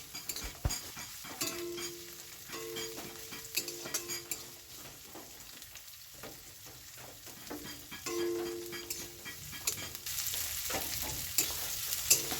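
Water lily stems frying in oil, with a steady sizzle under repeated stirring scrapes and utensil clinks against the pan, building slightly toward the end, with no voices.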